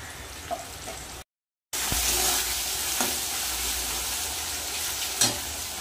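Dried chili paste and garlic paste frying in a pan with onion, a continuous bright sizzle broken by a brief silent gap, with occasional stirring knocks, close and fairly loud.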